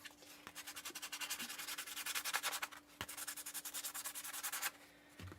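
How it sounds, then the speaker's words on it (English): Steady back-and-forth sanding of an acrylic keychain blank, a rapid rhythmic scratchy rubbing close to the microphone with brief pauses, no talking. "I am going to sand this."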